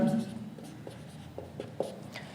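Marker or chalk strokes on a board while a quadratic formula proof is worked out, scattered short scratchy strokes in a quiet room with faint background hum.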